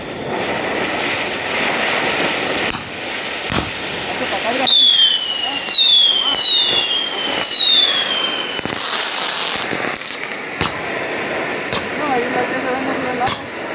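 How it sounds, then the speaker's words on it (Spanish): Fireworks rockets whistle upward in a run of rising shrieks followed by sharp bangs and crackles, heard from an outdoor spot among scattered voices and background noise. "Vamos a ponerlas aquí para ir a ver los cohetes."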